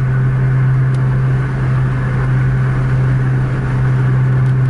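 A Scania-engined Javanese bus on a wet toll road gives a loud, steady low engine drone with constant road rumble and no clear pauses.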